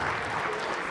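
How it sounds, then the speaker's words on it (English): Brief burst of audience clapping at a charity auction, a dense steady patter of many hands heard at moderate distance for under a second. "Round of applause."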